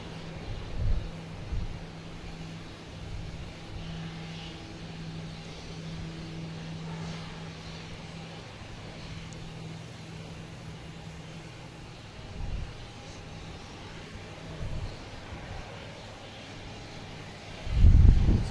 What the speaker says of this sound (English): Nice smooth landing.